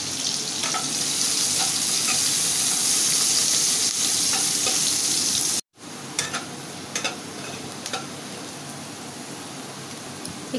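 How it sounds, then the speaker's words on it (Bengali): Onion sizzles loudly in hot oil left over from frying pointed gourd. The steady, dense frying hiss cuts out briefly midway, then resumes with softer crackles and pops. "এই তেলে আমি একটু পেঁয়াজ দিয়ে দেব।"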